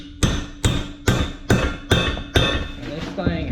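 A hammer strikes a punch held in vice grips, six sharp metallic blows at a steady half-second rhythm followed by lighter taps, loud and close.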